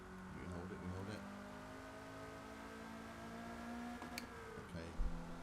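A race car in the Forza Motorsport video game holds its engine near the rev limiter of just over 7,000 rpm, a sustained high whining drone with pitch wobbles and small bumps at shifts, under faint talk.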